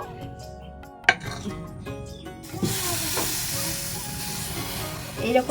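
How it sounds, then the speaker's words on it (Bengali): Atta flatbread cooking in a dry pan without oil gives a steady hissy sizzle that swells after a sharp utensil clink, with a few scraping knocks near the end and no talk. "আবারও একটা ভেজে নেব"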